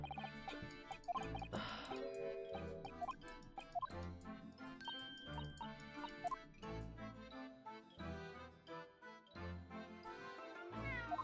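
A cartoon cat meowing in the video game The Great Ace Attorney Chronicles 2, soft short mews set among a quiet, tinkling musical jingle.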